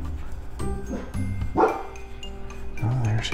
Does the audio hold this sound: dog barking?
yes